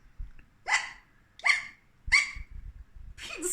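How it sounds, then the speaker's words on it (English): Cartoonish hiccup sound effects in a read-aloud children's story about a kitty with the hiccups: three sharp, evenly spaced squeaky hics over a quiet background, then the start of a fourth. "Pete still has the hiccups."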